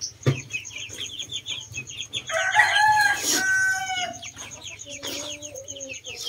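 A rooster crows loudly at close range in a long drawn-out call, surrounded by scattered clucks and softer chicken calls before and after.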